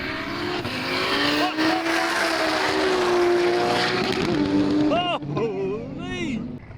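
A drift car races an R35 GTR, its engine howling in long sustained pitch sweeps, loud and near, before tires squeal and skid in a burst of wavering screeches toward the end.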